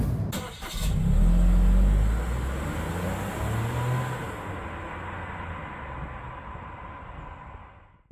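A Suzuki Vitara accelerating hard toward 100 km/h, its engine revving up loud and close with rising pitch through the gears, then easing off and fading.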